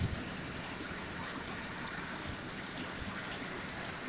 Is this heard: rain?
yes